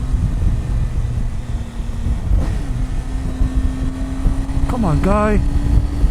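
A 2018 Triumph Tiger 800 XRt motorcycle engine drones steadily while riding, with a continuous hum and wind rush, as a rider speaks briefly over it.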